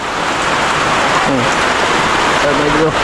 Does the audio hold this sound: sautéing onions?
no